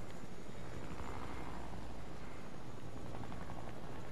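Helicopter in the video game Fortnite, a steady whirring rotor drone holding at even volume throughout with no speech over it.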